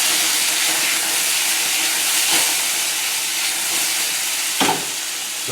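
Diced tomatoes hit a hot pan of shallots and garlic with a loud, steady hiss and steamy sizzle, a dense bright frying wash broken by a couple of faint clinks from the pan.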